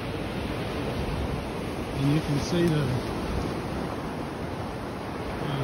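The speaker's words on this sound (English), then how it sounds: "You get to hear the waves break" Waves break on Driftwood Beach, Jekyll Island, Georgia, near an inlet. A steady, rushing wash of surf is blended with wind noise, and someone talks briefly partway through.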